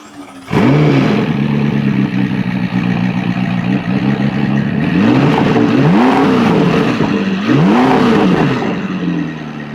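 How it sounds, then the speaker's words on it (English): A McLaren engine on a car being diagnosed for a possible blown motor starts up loud and close, then revs in three rising-and-falling throttle blips over a steady idle, with no talking. "So rev it up real quick, see if it smokes."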